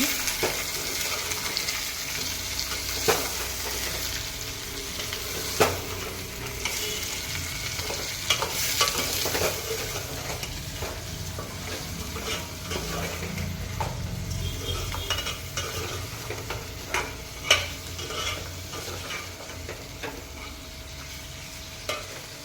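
Chicken for curry is stirred in a hot pan, with a steady sizzle of frying under repeated scraping and clinks of a spoon against the metal pan, close and continuous, with no talking.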